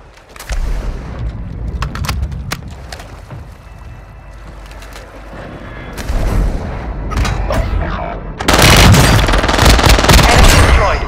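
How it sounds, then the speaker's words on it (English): Mortar strike explosions and rapid gunfire fill a Call of Duty video game battle: bursts of automatic fire crackle near, then heavy booming blasts surge louder in the final seconds, with no talk over them. "Hostiles launched the mortar strike."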